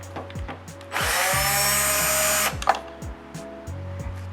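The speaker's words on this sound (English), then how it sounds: "we're going to be using a power drill just to save us some time" A power drill whirs steadily for about a second and a half removing a screw in a Toyota Highlander interior, then stops, with clicks and handling noises before and after.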